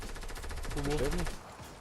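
Automatic weapon fire in the Fortnite Battle Royale video game on PS4: a quick, steady stream of evenly spaced shots rattles on for under two seconds at moderate, somewhat distant volume.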